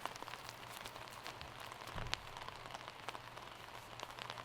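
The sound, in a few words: rain falling on disc golf course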